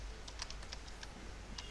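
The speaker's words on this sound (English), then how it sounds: "Don't worry about what I'm typing." Rapid keystrokes on a computer keyboard while writing a simple C++ program, a steady run of light, crisp clicks close to the microphone, typed alone with no talking.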